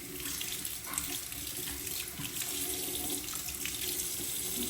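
Tap water runs steadily into a sink as a thick, dense-bristled makeup brush is rinsed under the stream, a continuous close splashing hiss with no voices.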